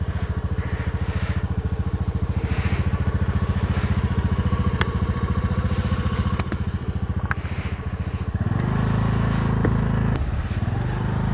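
A Honda Dio scooter struggling off-road on a rough track, its small engine droning loud and constant with rattles and clatter, then changing pitch and pulsing harder near the end as it labours.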